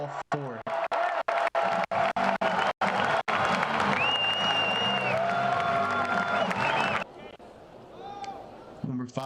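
A crowd at a college baseball game, the Tigers scoring runs, cheers and applause swelling in long waves and fading near the end, with a voice talking over it.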